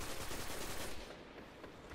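Rapid automatic gunfire from a Destiny match rattles continuously and loudly across the whole stretch, dense and unbroken, with no voices.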